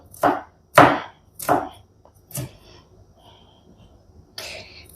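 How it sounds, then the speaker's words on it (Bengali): Green chillies chopped with a knife on a board, several sharp, separate chopping strikes close by, evenly spaced at first and then sparser, with no talk. "কাঁচা লঙ্কাটাও কুচি করে কেটেছি"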